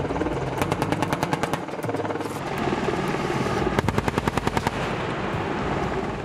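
An AH-64 Apache attack helicopter flies nearby with a loud, rapid rotor thumping, continuous throughout, and a harder, faster chopping burst around the middle.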